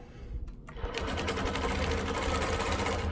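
A longarm quilting machine stitches along a ruler, with a brief quieter stretch and a couple of soft knocks before the motor settles into a fast, steady, whirring chatter, close up and alone.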